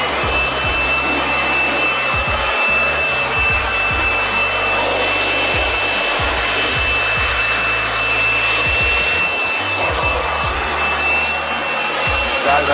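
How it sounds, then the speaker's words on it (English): A blower roars steadily and close at full power throughout, drying a freshly washed K series valve cover, with a constant rushing hiss and low rumble and no talking. "I'm gonna pull out the blower. I'm gonna dry this thing out"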